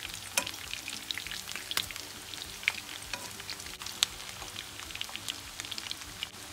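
Bulgur köfte fry in hot oil, a busy crackling sizzle with sharp pops scattered irregularly throughout, close and steady.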